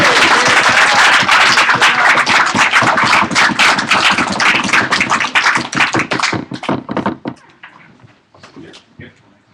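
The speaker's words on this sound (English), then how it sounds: "a round of applause for you" Applause from an audience at a hackathon final presentations and awards event, dense clapping with chatter filling the room, then thinning into scattered claps that trail off near the end.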